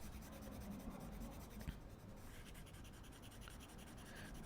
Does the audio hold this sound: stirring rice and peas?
no